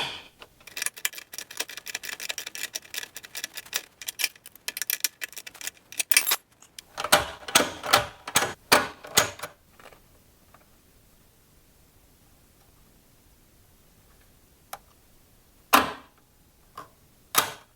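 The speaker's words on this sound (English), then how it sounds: "My 3/4 inch wrench on this side, a ratchet on the other." Rapid metallic clicking of a ratchet working against a 3/4 inch wrench on a boat transom tie-down bolt, a dense burst followed by shorter bursts, then sparse single clicks, close up.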